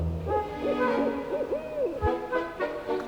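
An owl at a screech owl sanctuary gives a short series of clear, rhythmic hoots close by, one after another, with quiet background rustle and no talking.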